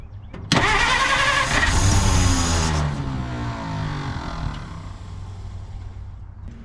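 A 1950 Dodge Meadowbrook engine cranks over, the starter grinding loudly with a rapid rhythmic chug for a couple of seconds before slowing and fading into a steady lower whir without catching.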